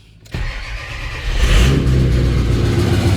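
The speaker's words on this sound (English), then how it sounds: "I'm gonna start the truck with the turbo switch on" A 6.0 Powerstroke diesel truck engine cranks and catches after a brief pause with the turbo working normally, then settles into a loud, steady rumble that builds slightly as it warms up, turbo spooling.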